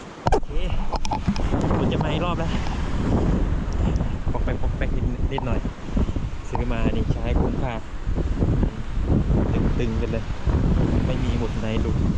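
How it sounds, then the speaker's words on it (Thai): Strong wind gusting at a campsite at Pha Daeng, roaring steadily into the microphone while people talk throughout. "เพราะว่าลมมันแรงมาก"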